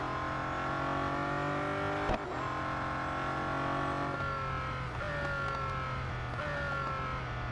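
Race car engine in the mobile racing game Real Racing 3, a loud sustained whine that shifts pitch through gear changes and braking, with a brief thump partway through and no voices.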